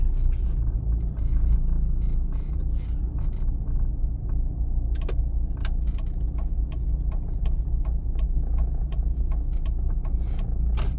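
Car interior during a practical driving exam in Lutsk, with a steady low engine and road hum and a run of faint regular ticks like a turn signal.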